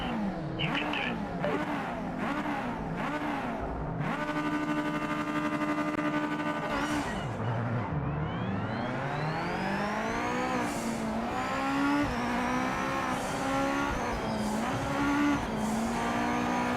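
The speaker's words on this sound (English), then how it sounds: "Let's get a good launch and overtake some cars." Race cars launching and racing in the Project Motor Racing video game: engines rev and climb through gears in rising sweeps, with several cars close together, tires squealing and a gearshift dip midway, loud and without talk.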